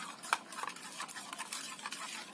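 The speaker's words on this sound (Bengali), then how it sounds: "এবার ভালো করে এগুলোকে সবগুলোকে মিশিয়ে নিতে হবে" A spoon stirs a wet paste of Kashmiri chili powder and turmeric powder mixed with water in a small bowl, making soft, irregular scraping and clicking strokes that are close and fairly quiet.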